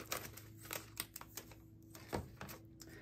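Plastic packaging shapes are cut out with scissors, giving a short series of quiet, close snips and crinkly clicks at an uneven rhythm, with no talking.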